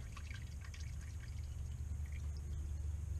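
Engine oil drains steadily from a Chrysler at 66,000 miles during an oil change, a continuous low pour with trickling and dripping, heard faint and close with no talk.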